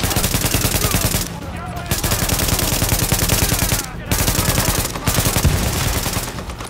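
Light machine gun fire in a video game: loud, rapid, continuous automatic bursts broken by a few short pauses, with faint voices mixed beneath the gunfire.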